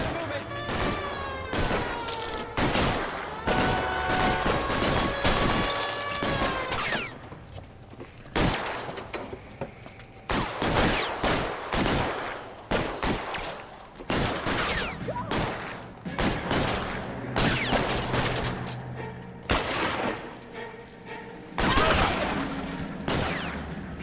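Gunfire in the video game L.A. Noire during a police shootout: many sharp gunshots in irregular bursts throughout, loud and close, with voices talking between the shots.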